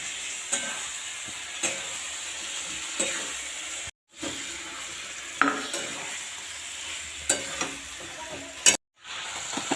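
Chicken pieces frying in a pot with green papaya for chicken kosha, a steady close sizzle broken by repeated stirring scrapes and knocks of the spoon against the pot.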